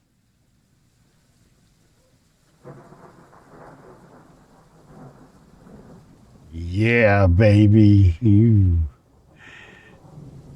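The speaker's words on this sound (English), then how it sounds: "I love a good thunderstorm." Thunderstorm with rain in the train simulator game Train Sim World 3, a steady rain hiss beneath a loud rumbling thunder roll in two bursts, with someone speaking briefly near the end.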